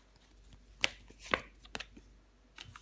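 Tarot cards being laid down on a table, a few soft, quick slaps and brushing sounds, close and quiet, spaced irregularly.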